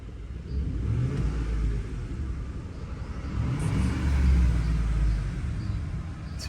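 Ford F-150 pickup engine with a cylinder 8 misfire revving up, a low rough rumble swelling and easing twice in steady, close, continuous sound with no talk.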